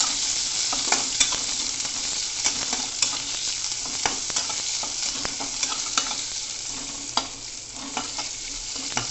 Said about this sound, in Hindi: अब मैं इसमें डाल दूँगा अनियंस।